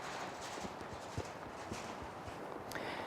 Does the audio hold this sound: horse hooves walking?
yes